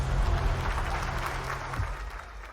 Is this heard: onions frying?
no